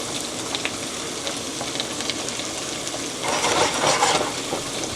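Mushrooms sizzle and fry in a pan with a steady crackle, and stirring rises into louder, busier sizzling near the end.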